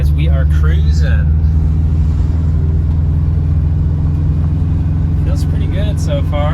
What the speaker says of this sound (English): We're gonna take it out for a little test drive.